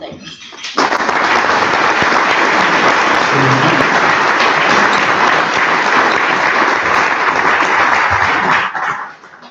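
A seated audience welcomes storyteller Donald Davis with a burst of loud, steady applause that swells at once, holds strong for about eight seconds, then tapers off.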